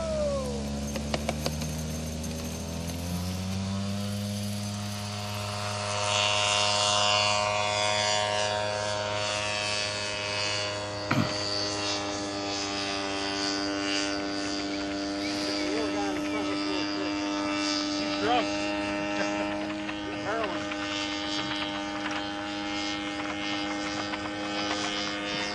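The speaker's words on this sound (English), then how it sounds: "Gas plane taking up a large glider" A gas-powered tow plane takes off towing a 7-meter glider, its engine note climbing to a steady droning hum that holds strong as it moves off, with a brief click partway through.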